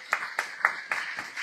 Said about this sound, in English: Let's give another round of applause for Vince.